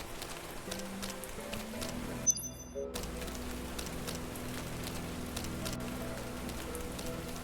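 Steady rain falls and patters on surfaces in the video game Parasite Mutant, a continuous close hiss with scattered drops and a brief louder interruption partway through.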